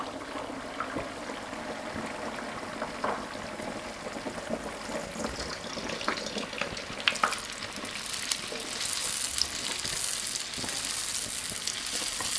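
Stretched youtiao dough sticks deep-frying in a wok of hot oil, a steady close bubbling sizzle that swells louder and brighter partway through as more dough goes in.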